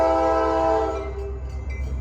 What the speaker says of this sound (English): The 803's horn sounded a lot clearer today.